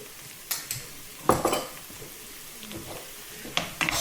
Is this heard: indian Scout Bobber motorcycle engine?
no